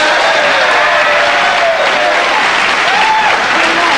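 A television studio audience at a late-night talk show applauds loudly and continuously, a dense wash of clapping with a few scattered shouts inside it.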